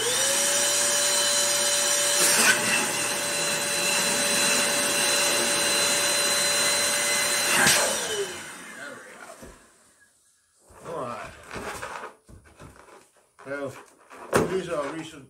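An air pump inflates purple balloons with a loud, steady mechanical drone that runs without a break for about eight seconds and then stops. Short bursts of speech and handling noise follow in the quieter stretch afterward.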